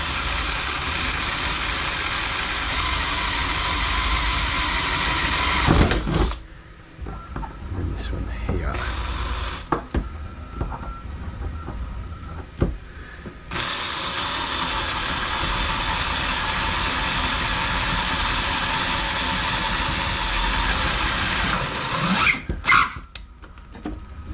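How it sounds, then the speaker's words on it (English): A power drill whirs steadily for long stretches while drilling holes in a boat rudder, pausing briefly in the middle, with a few clicks and knocks between runs. "I'm just going to drill the holes in here and then like this, nice and carefully."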